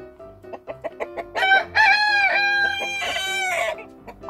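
Several chickens cluck and squawk close by in a coop, with a run of drawn-out, rising calls from a hen laying an egg in the middle, no talking.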